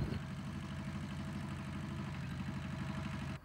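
Tractor engine towing rotating electrodes through a field for archaeological soil surveying, a steady close rumbling chug with rhythmic low knocking throughout, no voices.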